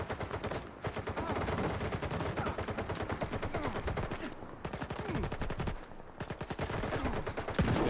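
Rapid automatic gunfire from Stalker 2 rattles almost nonstop in dense bursts, loud and close, with a few brief pauses between volleys.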